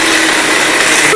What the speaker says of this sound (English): take half of the onion and half of the tomatoes into the mixie, and then we need to nicely grind it